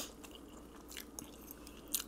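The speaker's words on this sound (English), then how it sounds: "Alright, let's make this a good bite. Grab a fish cake." Quiet, close bites into a hot fish cake give soft crunchy chewing with a few crisp clicks, ending in a louder bite.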